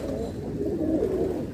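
Saharanpuri pigeons at a market sale coo softly in a steady, low burbling run, close by and alone.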